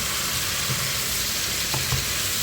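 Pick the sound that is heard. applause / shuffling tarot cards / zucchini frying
zucchini frying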